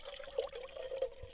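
Water poured at a lakeside campsite to be boiled for coffee: a short, faint, steady trickling pour lasting just over a second, with no talking.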